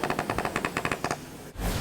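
Rapid automatic gunfire from an armored vehicle such as a BTR or Bradley in the battle-royale game PUBG: a quick, evenly spaced burst of about ten shots, then a brief pause and a rushing rumble.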